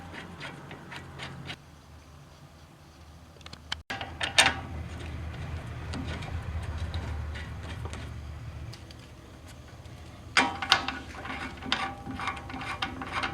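Bolts on the rear brakes of a Peugeot 206 CC being worked loose with a hand tool, giving soft ratcheting clicks and mechanical creaks, faint at first, then louder clunks and metallic ticks around the midpoint and near the end.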